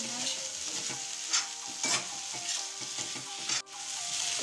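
Egg chutney fries in oil in a pan, a close, steady sizzle punctuated by repeated scraping stirs of a spoon, with soft background music running underneath.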